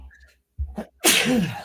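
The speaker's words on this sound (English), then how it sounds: "I'm going to sneeze." A single loud, close sneeze bursts out after a brief sharp intake of breath, with faint voices beforehand in a podcast studio.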